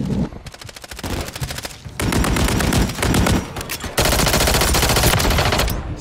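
Rapid submachine-gun bursts in the video game Modern Warfare 3, loud and close, with stuttering automatic fire that turns into near-continuous dense volleys over several seconds.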